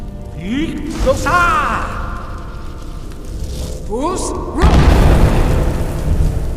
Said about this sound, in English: Use your force shout to strike the targets as they appear.